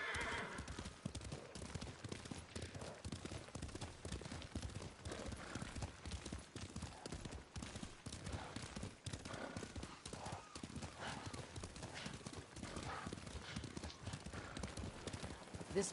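Horses in Ghost of Tsushima walk along a path with steady clip-clop hoofbeats and occasional whinnies, moderately loud under a continuous bed of ambient noise.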